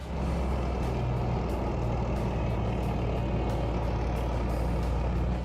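Gepard self-propelled anti-aircraft vehicle with twin 35mm autocannons moving on an old runway outdoors, a heavy continuous engine rumble with a steady low drone, loud and unbroken, with no talking.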